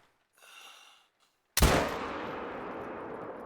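Single sharp shot from a Martinson 6.5 Creedmoor sniper rifle in theHunter: Call of the Wild, a loud crack with a long rolling echo that fades, preceded by a soft rustle.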